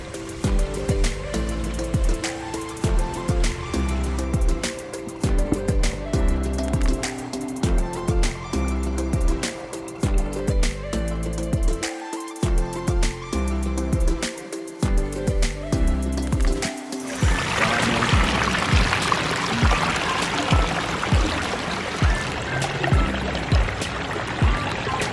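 Water runs continuously in a backyard fountain water feature at a pond, a steady splashing flow that grows fuller and brighter in the later part, with faint knocks underneath.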